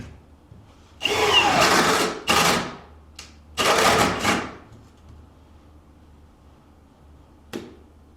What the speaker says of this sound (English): So the holes that Fernando is drilling right